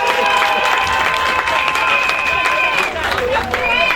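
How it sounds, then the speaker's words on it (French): Applause from an audience at a customary wedding ceremony, a dense steady wash of clapping mixed with crowd noise and voices, loud throughout with tonal music-like lines running underneath. "m'applaudissez pour moi quand même."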